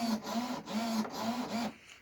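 Servos driving the ailerons of a petrol-powered RC model plane whir in four short, repeated bursts with brief pauses between them, buzzing mechanically and close by, with no talking.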